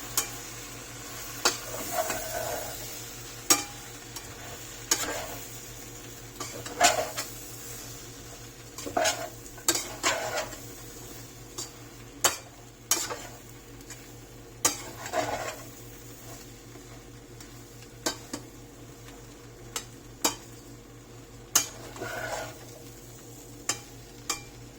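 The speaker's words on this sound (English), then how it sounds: "And then we just kind of want to toast this rice." Rice toasting with chili powder in a pan gives a soft steady sizzle, broken by repeated scraping stirs and light clicks of a utensil against the pan at irregular intervals, all close and with no talking.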